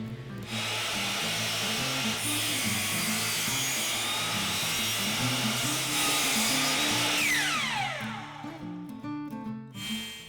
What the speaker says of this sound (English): cutting it to a rough length on the miter saw.